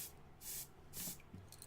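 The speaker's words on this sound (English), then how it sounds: "I am going to spray this on my sponge." Sephora Perfection Mist Airbrush Foundation is sprayed onto a makeup sponge in two short, close hissing bursts, each about a quarter second long with a brief pause between, followed by a faint softer puff.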